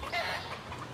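Chickens cluck faintly, with a short rise of clucking over low background noise and no talk.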